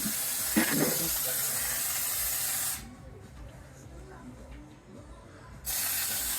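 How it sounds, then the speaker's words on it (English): Undercoating sprayed under a Lexus RX 350, a steady loud hiss that cuts out midway for a few seconds, then resumes, with a brief bump of noise near the start. "Maintenance day. Undercoating anyone?"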